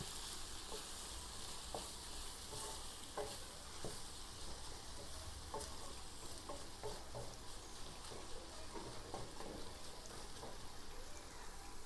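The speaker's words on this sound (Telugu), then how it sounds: "ఒక ఫైవ్ మినిట్స్ మీరు హై ఫ్లేమ్లో అయితే కుక్ చేసుకోండి దీన్ని" Ivy gourd and tomato curry sizzles and fries in a pan over high flame, a dense steady crackle with occasional stirring scrapes, close and continuous with no talking.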